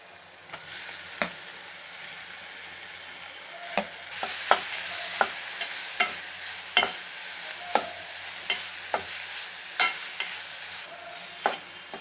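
Grated coconut and asafoetida frying in a pan for coconut rice while a spoon stirs them. A continuous soft sizzle is broken by a dozen crisp scraping strokes at an irregular pace, close and alone, with no talk.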